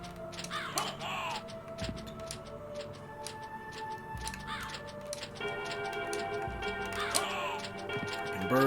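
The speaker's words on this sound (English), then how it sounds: "And birds." Birds cawing in the video game Castlevania: Symphony of the Night, several harsh crow-like calls repeating over a steady ambient game soundtrack with ticking clock-like sounds, moderately loud and without any voices.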